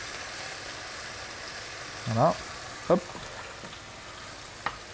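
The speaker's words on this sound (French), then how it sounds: "c'est comme si c'était une petite friture" A breaded escalope milanaise fries in a pan with a steady, close sizzle throughout, broken by a couple of short bumps and a brief spoken word from the cook.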